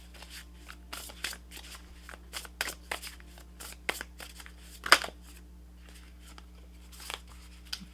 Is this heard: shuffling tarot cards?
yes